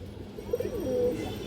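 Large show pigeons of prized breeding lines coo in a few soft, low, rounded notes close by over a steady background hum, with no voices.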